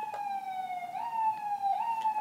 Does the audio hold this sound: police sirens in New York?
yes